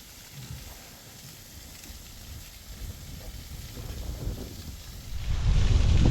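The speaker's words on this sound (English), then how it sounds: "But out here, man, the wind's really pounding my face." Strong wind buffeting the microphone outdoors on a frozen hike near an ice pillar, a continuous rough rumble and hiss that swells louder toward the end.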